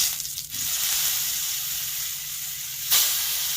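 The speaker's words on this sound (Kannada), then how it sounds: "ಬದನೇಕಾಯಿನ ಮಸಾಲೆ ಹೆಚ್ಚಿಟ್ಟಿವಲ್ಲ ಅದನ್ನು ಫ್ರೈ ಮಾಡ್ಕೊಳ್ಳೋದ್ರಿ ಒಂದೊಂದಾಗಿ ಫ್ರೈ ಮಾಡ್ಕೊಂಡ್ರಿ" Stuffed brinjal (eggplant) pieces fry one at a time in hot oil, giving a steady, close hiss with a brief louder burst near the end and no talking.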